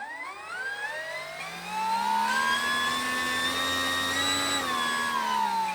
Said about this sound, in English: Right now we're gonna do a throttle test.